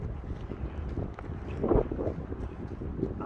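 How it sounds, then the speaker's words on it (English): Wind gusts outdoors near a valley overlook, rumbling and buffeting the microphone in uneven low surges that swell briefly in the middle, with no talking. "Woo, windy."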